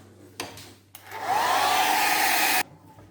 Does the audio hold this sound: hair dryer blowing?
yes